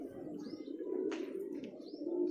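Soft pigeon cooing from a small female high-flyer pigeon with black beak and black nails, held close in a fancier's loft, with faint chirps and a low steady murmur throughout.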